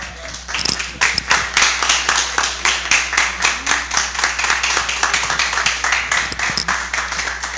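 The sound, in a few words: audience applause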